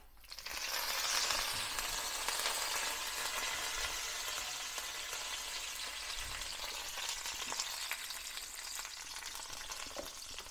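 Mustard seeds, fenugreek and curry leaves fry in hot oil for a Kerala-style lemon curry, making a bright, continuous crackling sizzle that swells at first and then settles into a steady hiss, with faint stirring thumps.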